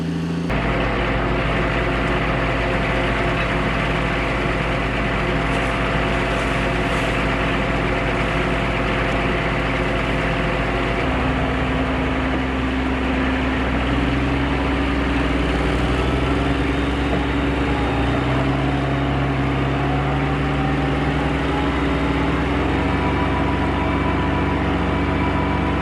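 A Case tractor engine labors while pulling on a slippery farm field during drainage tile installation, a steady loud drone that shifts its pitch partway through and carries on without a break.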